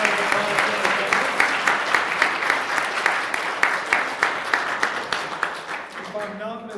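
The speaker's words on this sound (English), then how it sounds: "And a round of applause for our judges." An audience at a new venture competition applauds the judges with steady, rapid clapping that fills the room, while voices carry over it before the clapping trails off.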